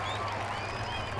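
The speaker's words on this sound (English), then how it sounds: "Crowd meets it with a cheer." A stadium crowd at a women's Asia Cup cricket semi-final between Sri Lanka and Pakistan roars and applauds in a dense, continuous wash of cheering and clapping, with faint voices mixed in.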